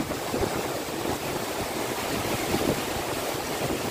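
Water from the Vyaghreshwar waterfall at Manche, Devgad in Sindhudurg pouring and rushing in a steady, dense roar close by, with no voices.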